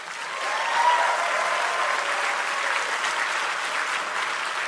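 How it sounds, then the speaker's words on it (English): Sustained applause from a large crowd at a PAX East 2014 gaming convention panel, a dense wash of clapping that swells early and holds steady throughout. "Give them a round of applause."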